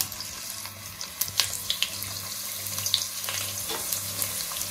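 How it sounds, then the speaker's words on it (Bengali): Chopped onions fry in plenty of oil in a pan, giving a steady dense sizzle and hiss with occasional sharp crackles and pops, close by and without talk. "পেঁয়াজটাকে আমি ভালোভাবে 2 থেকে 3 মিনিট ভেজে নেব।"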